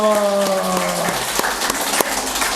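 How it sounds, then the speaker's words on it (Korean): Congregation in a church clapping together in thanks, a broad steady wash of applause with a few sharper claps, starting as organ or keyboard chords fade out beneath it. "우리 감사의 박수를 한번 올려드렸으면 좋겠어요"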